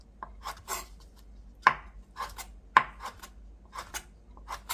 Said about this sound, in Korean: 대충 한입 크기로 썰어주시면 돼요